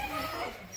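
Newfoundland puppy whimpering in a high, chattering way like a chimp, a short continuous whine at close range, fairly quiet, with no voice over it.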